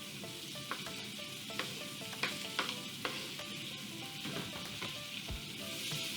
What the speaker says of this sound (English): to our saute pan, I have one small Spanish onion, roughly chopped